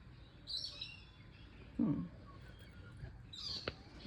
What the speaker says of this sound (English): That's a currawong for those of you who don't know what that bird is.